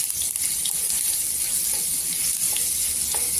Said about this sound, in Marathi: इथे आपण मसाला घेतलेला आहे वाटून तो टाकायचा छान मसाल्याला परतून घ्यायचा तेलावर